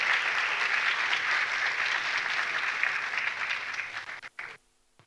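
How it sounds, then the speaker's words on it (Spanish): A seated audience at a justice and democracy summit session in Paraguay gives sustained, even applause for a guest speaker, fairly distant, thinning out and stopping just before the end. "Le brindamos un fuertísimo aplauso."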